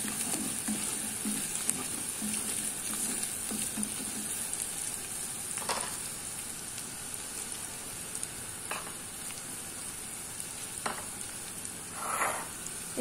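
Ginger garlic paste frying in a pan before prawns go in for a gongura prawn curry, a continuous fine hiss of sizzling oil with a few sharp scrapes of a spatula stirring, no talk.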